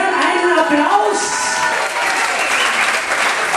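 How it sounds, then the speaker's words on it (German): Dense, steady applause and crowd noise from an evening audience greeting the Country Cruisers dance group, loud and continuous throughout with some cheering mixed in. "Meine Damen und Herren, einen Applaus!"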